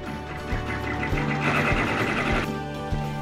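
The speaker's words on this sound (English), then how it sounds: "return it to the machine and let it stitch the tack down stitch" Sewing machine stitching an appliqué tack-down stitch on a quilted appliqué letter, a steady mechanical whir with a low rhythmic thump roughly every 0.6 seconds, close and continuous.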